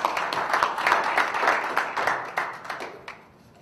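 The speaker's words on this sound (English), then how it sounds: "Please give him a round of applause" Applause from a youth gathering audience, a dense wash of many hands clapping steadily at moderate volume, then thinning and fading toward the end.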